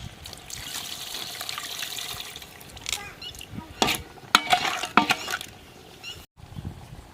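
Tamarind water poured into a Chettinad crab gravy, a steady liquid trickle and splash into the simmering pot with faint sizzling, followed by a few louder stirring clinks and pours near the end.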